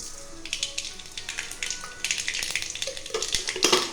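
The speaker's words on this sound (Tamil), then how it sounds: "கடுகு பொரியுது" Mustard seeds crackle and splutter in hot oil in a pan, a dense, close sizzling with scattered sharp pops that builds toward the end, and no voices.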